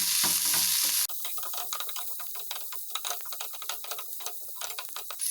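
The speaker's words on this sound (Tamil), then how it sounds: "எண்ணெய் சூடானதும் ஒரே ஒரு பெரிய வெங்காயம் பொடியாக கட் பண்ணதை சேர்த்திடுறேன். வெங்காயத்தை நல்லா வதக்கிடலாம்." Finely chopped large onion sautéing in hot oil in a pan for a bread cutlet: a loud initial hiss as it hits the oil, settling into a steady, close crackling sizzle with light stirring.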